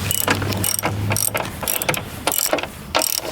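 A ratchet tightens a part on the dash skeleton of a 2015 Kia Optima during repair. Close, loud bursts of clicking come in a steady back-and-forth rhythm of roughly eight strokes.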